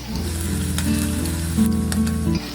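Poa pitha batter of flour and semolina frying in hot oil over a low flame, a loud continuous close sizzle with a low bubbling undertone, no talk.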